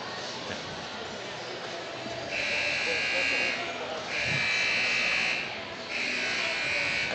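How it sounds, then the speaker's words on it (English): A basketball court buzzer sounds three long, loud blasts in a rhythmic on-off pattern to clear the court, over a noisy gym crowd with people talking. "There's a buzzer now going off, letting people know it's time to clear off the court"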